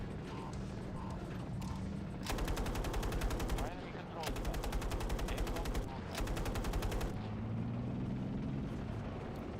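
Video game gunfire during a tank battle, three bursts of rapid automatic shots, each a couple of seconds long, loud and close over low game ambience.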